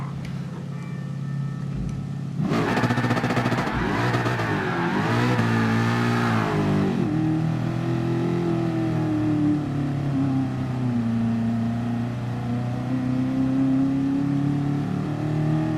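A racing car engine in GT Sport drones steadily, rising into a loud rev for several seconds before settling back to a sustained, wavering engine hum.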